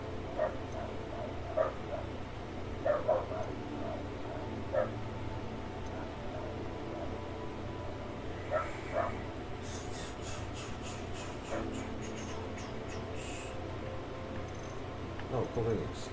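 Several dogs bark and yip at a distance in scattered short bursts, faint against a steady background hum, with a person talking nearby.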